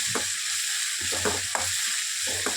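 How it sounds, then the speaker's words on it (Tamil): Turkey berries fry in a pan on a low flame for kuzhambu, a steady soft sizzle with repeated rhythmic stirring scrapes about every half second, close by and without talking. "சிம்லே வச்சுக்கலாங்க இந்த மாதிரி ஃப்ரை பண்ணிக்கலாங்க"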